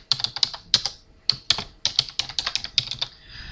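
Fingers tap out a short word on a computer keyboard, a quick run of close, crisp key clicks in small bursts with brief pauses between them.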